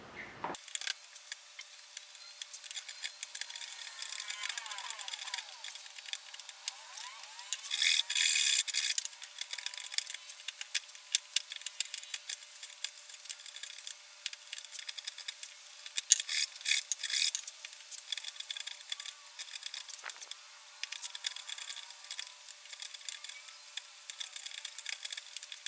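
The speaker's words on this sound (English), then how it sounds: "I'm going to use this chisel to smooth it out" Chisel scraping and smoothing the wooden edges of a small table being rehabbed, a continuous close rasping that pulses in uneven strokes and runs alone throughout.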